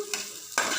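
Dried red chilies and onion fry in a pan, a sizzling hiss with stirring scrapes that swell into a louder burst of sizzle near the end, heard close with no talk.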